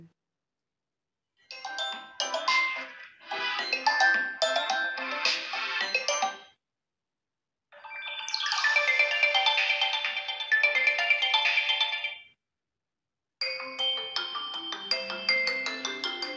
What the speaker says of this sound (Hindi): तो यहाँ से आ जाते हैं फोन रिंगटोन्स में।